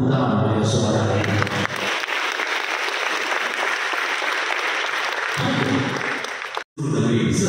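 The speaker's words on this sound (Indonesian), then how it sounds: "Tepuk tangan bagi saudara ini." A seminar audience claps for a participant, a loud, dense burst of applause that swells and holds for several seconds before briefly cutting out and resuming.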